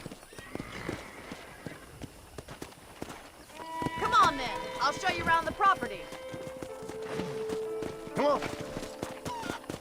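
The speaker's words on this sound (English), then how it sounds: "I picked out a fine horse for you." In the Western video game Red Dead Redemption, a horse's hooves clip-clop on the ground and it whinnies loudly midway, while someone talks over the hoofbeats.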